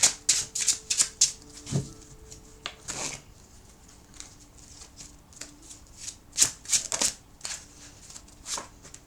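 Tarot cards shuffled by hand in quick riffling bursts, crisp papery flicks coming in irregular clusters with short gaps, close and fairly quiet.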